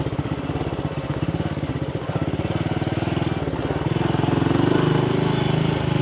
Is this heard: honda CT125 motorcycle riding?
yes